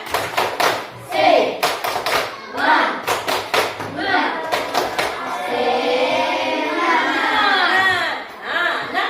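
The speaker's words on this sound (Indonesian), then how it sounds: "Kita tepuk semangat dulu" Children clap together in a rhythmic spirit-clapping chant at an Indonesian Islamic school lesson, sharp hand claps in quick patterned bursts mixed with chanting voices, loud and close.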